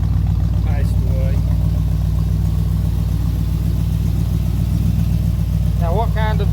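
A 1984 Chevrolet Silverado pickup engine with Flowmaster exhaust idles with a steady low rumble throughout, while people talk briefly over it.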